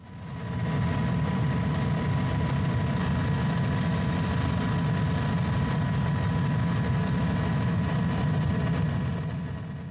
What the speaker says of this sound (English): We packed up, jumped in the helicopter, and left.